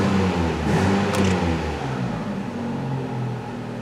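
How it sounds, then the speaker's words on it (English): A Hyundai Elantra engine idles too high, around 1,100 RPM against a 680 target, a close, steady mechanical hum with a low droning tone that swells briefly then settles, heard alone. "so there's our higher than expected engine RPM."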